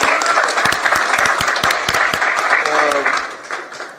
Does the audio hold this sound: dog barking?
no